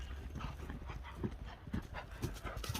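A horse being shown for sale, its hooves clip-clopping in an uneven rhythm at moderate distance over a continuous background rumble.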